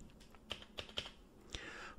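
Typing on a computer keyboard, a few close, soft key clicks in an irregular rhythm over quiet room noise.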